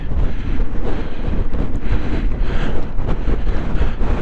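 Strong wind buffets the microphone on an off-road trail ride in a continuous, loud roar with rumbling surges and no voices.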